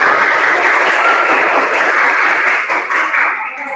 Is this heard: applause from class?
yes